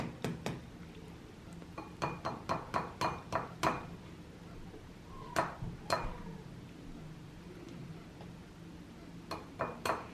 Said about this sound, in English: do let my 4-year-old crack the egg herself